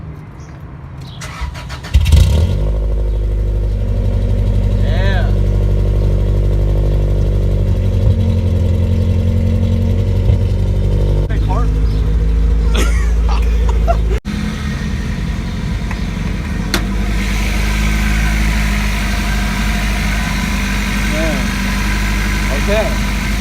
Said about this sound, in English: we're gonna get a quick startup of the Integra